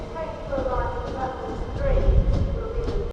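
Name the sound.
LNER train arriving at York station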